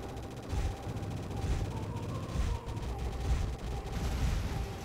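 Dense, relentless gunfire and explosions from the Progear arcade shoot-'em-up fill the game audio, a constant rattling barrage with periodic bursts and booms, loud and continuous.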